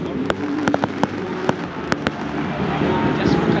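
Fireworks burst at a trophy handover celebration, sharp loud bangs scattered irregularly over a steady crowd roar, with several cracks clustered early and a denser crackle toward the end.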